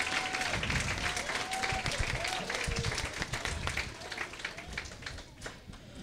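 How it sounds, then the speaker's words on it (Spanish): At a Christmas special program, an audience applauds SBG dancers, sustained crowd clapping with some voices and faint tonal sounds mixed in, gradually thinning and quieting toward the end. "un fuerte aplauso para nuestros bailadores de SBG"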